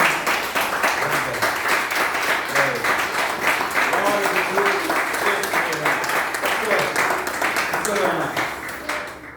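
Church congregation applauds in a steady, dense wash of clapping that carries on for several seconds, with voices and faint singing or talk mixed in beneath.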